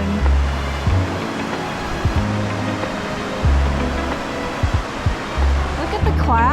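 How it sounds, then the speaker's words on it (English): Water rushes down the spillway at Lake Winona in a steady broadband roar, broken by intermittent low rumbling gusts, close and fairly loud. "You stand here and look at this water running down here, the spillway, for a long time."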